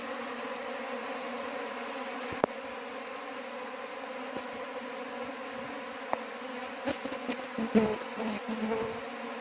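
A new swarm of Apis cerana indica honey bees fills the air with a dense, continuous buzzing hum that stays close and steady throughout, broken by a few faint clicks and rustles.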